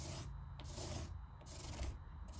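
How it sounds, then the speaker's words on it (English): A broadhead arrow blade is polished on a clay block from a sharpening kit, giving faint rhythmic rubbing strokes that repeat back and forth about three times, close and quiet. "it's just the clay that came with my sharpening kit that does a great job of polishing up the blade, working out the burrs"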